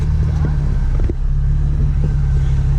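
Steady low engine rumble from an Infiniti car, close and continuous for about three seconds with a brief dip near the middle, apparently idling or pulling out of a garage.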